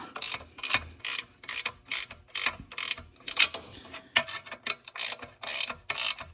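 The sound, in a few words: ratcheting wrench on catalytic converter bolts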